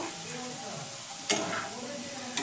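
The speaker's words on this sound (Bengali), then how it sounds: "আলুটাকে আবারও ভালো করে নাড়াচাড়া করে দেবো" Potatoes frying in a pan for a quick homemade snack, a soft continuous sizzle with two sharp scraping stirs about a second apart, with no one speaking.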